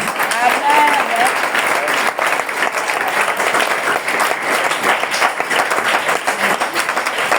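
A church congregation claps and cheers loudly in sustained applause through the whole stretch, dense and continuous, with some voices mixed into the crowd noise.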